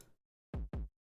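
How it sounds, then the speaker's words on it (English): Two deep electronic kick drum hits in quick succession, booming and punchy, after a brief faint bit of noise. "the kick normally sounds like this."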